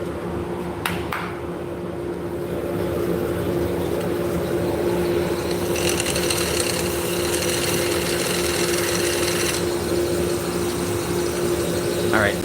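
Wood lathe spinning steadily with a slight vibration, a continuous mechanical hum and whir that runs loud and close throughout, with a brief extra rattle near the middle.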